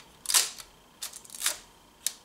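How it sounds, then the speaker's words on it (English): A 1960s Nikkormat FN film SLR fires its shutter several times, each release a crisp, close mechanical click, spaced unevenly across the moment with quiet gaps between. "That's what shutter sounded like in the 60s."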